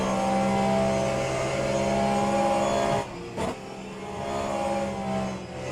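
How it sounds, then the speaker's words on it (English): Onboard engine note of a Porsche race car in an SRO racing video game at Suzuka, a loud sustained drone that drops off sharply during a brief lift before building back up. "Get a shot from inside this Porsche."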